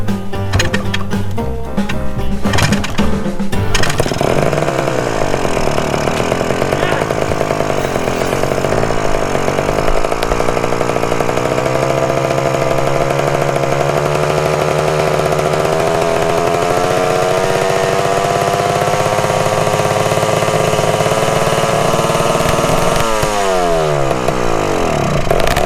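A 1974 Honda MT250 Elsinore barn-find motorcycle engine fires up with sputtering bursts, then settles into a loud, steady high idle with shifting buzzy tones, revving up briefly near the end.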